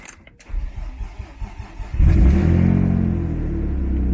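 A drift car that has sat unused for about a week cranks for about a second and a half, then its engine catches and settles into a loud, steady, rumbling idle close by.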